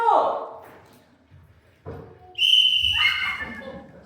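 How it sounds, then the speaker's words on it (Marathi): A shrill whistle is blown during a comedy sketch, with sharp high bursts near the end and voices talking over the sound. "अरे किती रे ही शिट्टी?"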